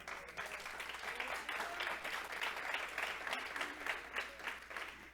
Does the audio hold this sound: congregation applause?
yes